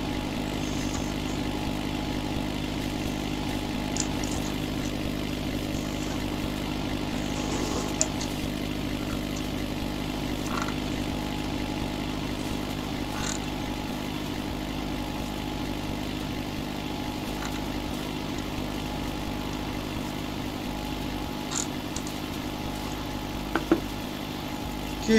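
A Ford 5610 tractor engine runs steadily while tedding hay, a continuous mid-pitched diesel drone with a constant tone and occasional faint clicks and knocks from the machinery.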